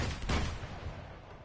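Shotgun blasts in Uncharted 2's monastery level, a loud close boom followed by a rolling, echoing tail amid gunfire, brief and punchy.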